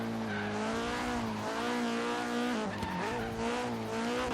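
Vauxhall Corsa track build engine in Forza Horizon 3 revving high and steady, with pitch dips and climbs as it shifts up through gears, continuous and close with tire noise underneath, no talk.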